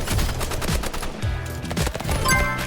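An AK rifle fires in a video game, rapid automatic bursts cracking loudly and close in quick succession for the whole stretch.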